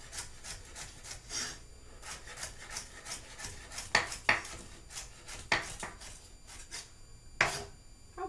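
A knife chops onion and celery on a cutting board for sausage cornbread stuffing, giving scattered sharp, close knocks and rasping cuts at an uneven pace over soft kitchen background noise.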